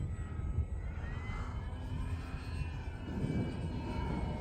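Arrows Husky Ultimate RC airplane with a big wing flying an outside loop, its engine droning steadily at a distance with a rising and falling pitch as it maneuvers, no talking.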